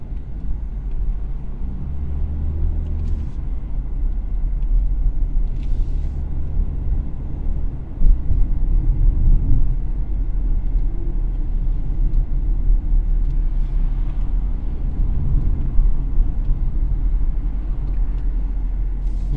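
Hyundai Creta car driving through city streets, heard from inside the cabin as a steady low engine and road rumble with tire noise, continuous and fairly loud throughout, no talking.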